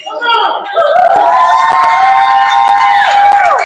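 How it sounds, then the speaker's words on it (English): A wrestling crowd at a live show cheers loudly and continuously, with whoops and shouts swelling into a sustained roar. "The crowd loving Classic Alpha right now"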